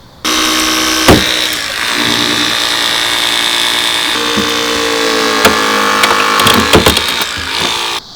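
Hydraulic rescue cutter slicing through car window frames during a vehicle extrication drill, giving a steady grinding, creaking hum broken by sharp cracking snaps of metal near the start and in a cluster toward the end, close and loud with no talking.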